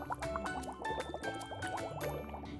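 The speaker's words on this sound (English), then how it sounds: "By adding the vinegar to the molded baking soda tree" Vinegar is poured over a molded baking soda Christmas tree in a chemistry experiment: a quiet run of liquid pouring and bubbly fizzing with small gurgles and drips, close up and steady, with no talk.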